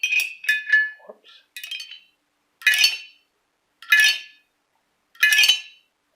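Homemade glass xylophone struck with a stick: a quick run of bright glassy tinks, then three separate ringing strikes spaced about a second apart, clear and close with no talking.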